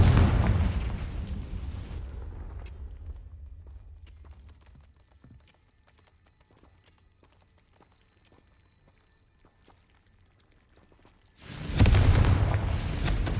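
Spell explosions from Confringo and Bombarda in the video game Hogwarts Legacy: a loud booming blast up front that dies into a low rumble, a long quiet stretch, then another heavy burst near the end.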